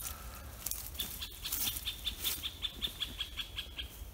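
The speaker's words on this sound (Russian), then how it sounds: "Вон и птичка нас поздравляет." Small bird in a forest gives a run of repeated thin chirps at an even rhythm, faint and somewhat distant over soft rustling ambience.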